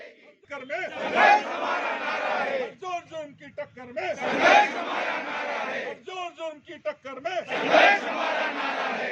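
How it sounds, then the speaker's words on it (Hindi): Striking bank employees at a protest chant slogans in loud, rhythmic group shouts, three surging waves of crowd voices with clapping mixed in, close and energetic. "इस दौरान कर्मचारियों ने ताली बजाकर केंद्र सरकार के खिलाफ नारेबाजी की।"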